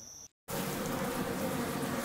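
Yellow hornets hunting Japanese honeybees at a hive produce a dense, continuous insect buzz, loud and close, after a brief silent cut near the start.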